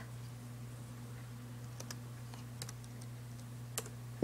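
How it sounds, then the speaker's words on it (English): Sparse keyboard clicks in The Sims 2 on PC as a cheat is typed, a few isolated taps over a steady low electrical hum, quiet and close with no talking. "I can type this with one hand"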